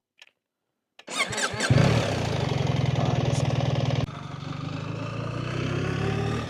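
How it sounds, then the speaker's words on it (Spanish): A BMW GS 1300 motorcycle starting up: a brief click, a short cranking whir, then the engine catches and settles into a loud, even idle that drops slightly partway through, with no talk. "para arrancar esta moto, botón aquí superior en esta piña derecha, se activa la pantalla y ya le damos a arrancar"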